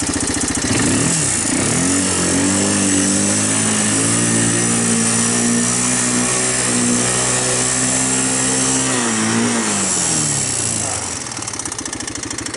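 A 1985 Honda TRX250 ATV engine runs loudly and steadily nearby with a smoking clutch, its buzzy drone dipping and rising in pitch before easing off near the end.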